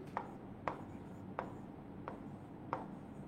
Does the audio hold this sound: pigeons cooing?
no